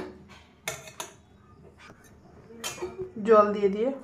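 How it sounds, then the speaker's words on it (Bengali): Utensils clink and scrape against a bowl as paneer stick batter is whisked with small splashes of water, a few sharp taps early on and a busier stretch of clattering near the end, with someone talking throughout. "অল্প অল্প জল দিয়ে ব্যাটারটাকে গুলিয়ে রেডি করে নেব"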